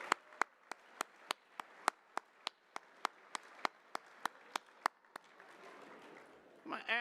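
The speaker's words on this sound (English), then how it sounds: "Let's give one round of applause for all our Hall of Famers in attendance." Applause for Hall of Famers at a track and field coaches' awards presentation comes as sharp, evenly spaced claps, about sixteen in a slow steady rhythm, fairly faint against a quiet room, fading into murmur at the end.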